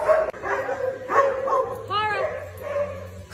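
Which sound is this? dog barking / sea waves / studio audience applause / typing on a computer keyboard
dog barking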